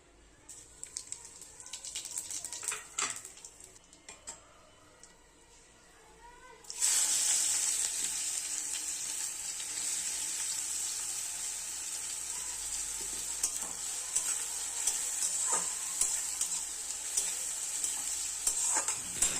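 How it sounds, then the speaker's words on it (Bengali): Chopped onion fries with whole spices in a wok, starting as a quiet stir and scrape, then breaking into a loud, steady sizzle and hiss that holds to the end, with occasional stirring clatter. "কড়াইতে গোটা মশলাগুলো ফোড়ন দিয়ে পেঁয়াজ কুচি দিয়ে ভালো করে ভেজে নিয়েছি"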